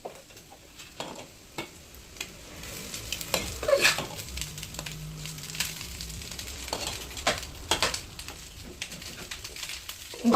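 Cooked rice frying in a pan for ghee rice, stirred with irregular scrapes and knocks over a soft sizzle, while pigeons coo faintly in the background.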